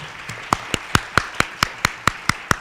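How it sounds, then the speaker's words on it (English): At a community forum against hate crimes, hands clap for youth performers: about ten crisp, evenly spaced claps, close and loud, with no voices. "Another round of applause for our youth."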